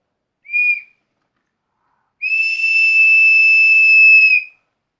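A toy whistle blown for a Digi Birds toy bird gives a short high chirp, then one long, steady, shrill tone lasting about two seconds, clear and close with no other sound around it.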